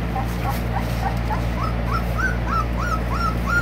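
American Staffordshire Bully puppies whimpering, a run of thin, high, rising whines repeated in steady succession, close by over a constant low hum.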